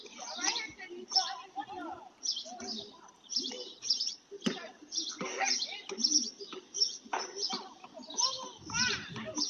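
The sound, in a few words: birds chirping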